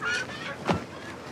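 Live chickens at a market along the Karakoram Highway, a short cluck or squawk among faint background noise, brief and mid-distance.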